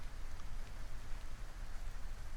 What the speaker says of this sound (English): It's raining over Kerman's deserts.